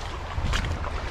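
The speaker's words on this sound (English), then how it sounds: "It's very windy right now." Strong wind buffets the microphone beside a small creek at a spillway before a storm, a steady loud rumble with gusty swells and no voices.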